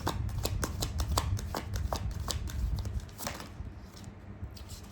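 Tarot cards are drawn from a deck with a run of quick, crisp card snaps and slides that start rapid and then thin out, close and fairly loud, with no talk.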